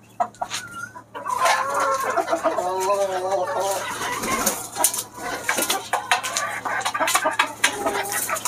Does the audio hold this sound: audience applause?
no